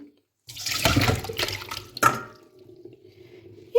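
Soaking water pours off chicken gizzards into a kitchen sink in one steady splashing gush of about three seconds, fairly close and alone, tapering off near the end.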